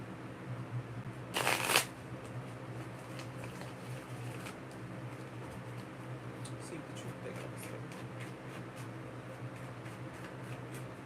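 Truth card deck shuffled by hand, a quick burst of riffling cards close to the mic near the start, followed by faint handling ticks over a steady background hum, no talking.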